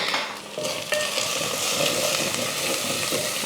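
Biryani masala and spices being stirred into sizzling oil in a frying pan for kuska, a steady close crackle and fry with scraping stirs and a brief clink near the start, no voices.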